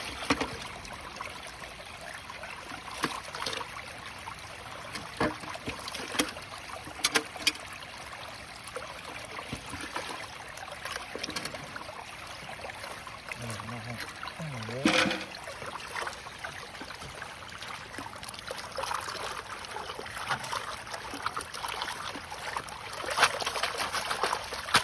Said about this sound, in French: Un petit peu d'eau.